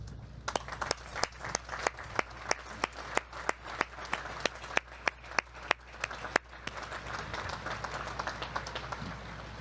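At a U.S. Naval Academy commencement, slow, evenly spaced single claps ring out sharply over a low hum, then swell into looser, fuller applause from the crowd.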